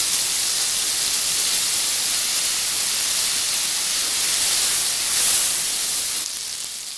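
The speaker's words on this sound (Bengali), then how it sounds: "আর এবার আলুগুলোকে ভাজবো।" Potatoes tossed with turmeric into hot oil sizzle and hiss steadily throughout, a loud, even frying noise that flares briefly near the end and then eases slightly.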